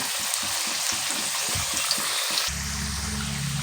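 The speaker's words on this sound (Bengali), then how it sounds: "আমি একদম আলুগুলোকে সুন্দর করে লাল লাল করে ভেজে নেব" Potato pieces fry in hot oil for a Bengali mutton curry, a close, even sizzling hiss with rhythmic stirring scrapes that give way to a steadier bubbling fry.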